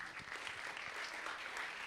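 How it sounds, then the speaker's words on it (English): Audience clapping at a hackathon closing ceremony comes as a faint, continuous patter of many hands, steady throughout the short stretch with no clear individual claps standing out. "Clap."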